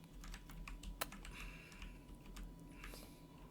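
Computer keyboard keys, WASD and arrow keys, pressed in quick irregular taps during game-editor work, quiet and close with a steady low background hum and no voices.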